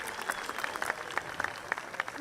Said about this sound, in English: let's go ahead and give those folks a round of applause